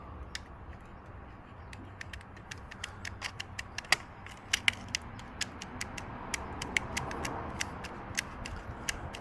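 A dull Stanley knife sawing through silicone hose, a string of sharp clicks and snaps repeating irregularly over a low background hum, close and fairly quiet, with no talking.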